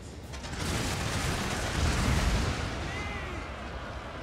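Musket grenades bursting in a Total War: Shogun 2 battle: a dense, rumbling wash of explosions and crackling blasts that swells and rolls for several seconds, heavy and continuous rather than distinct single bangs.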